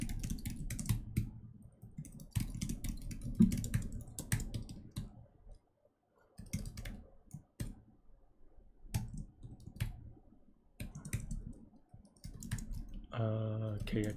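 Code typed on a computer keyboard during a Leetcode contest, bursts of rapid close key clicks separated by short pauses and brief quiet gaps, with a voice speaking intermittently.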